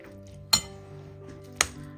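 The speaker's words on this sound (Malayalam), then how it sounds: "എല്ലാം കൂടിട്ട് ഒന്ന് മിക്സ് ചെയ്തെടുക്കും" A spoon clinks against a bowl while stirring together egg, chopped onion and coriander: two sharp, separate clinks about a second apart over a quiet background, with no talking.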